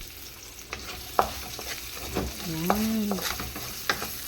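Ginger and garlic sizzle softly in a pan while a spatula scrapes and taps a few times, close up, with a short spoken word partway through.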